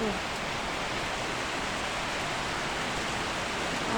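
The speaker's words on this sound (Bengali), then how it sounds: "বৃষ্টি নেমে গেল এই যে বৃষ্টি হচ্ছে" Steady rain falls outside a home balcony with potted plants, giving a continuous, even hiss of moderate loudness with no breaks and no voices.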